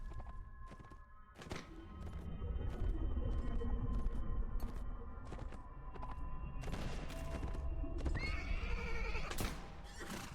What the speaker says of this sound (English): The horse has got to be mine.